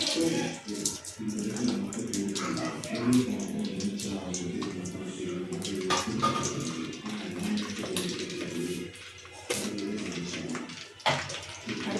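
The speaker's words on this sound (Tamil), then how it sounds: "இப்போ கடுகு வந்து பொறிஞ்சிடுச்சு" Mustard seeds splutter in hot oil for a brinjal dal dish, a dense, continuous crackle of sizzling pops up close, with faint talk underneath.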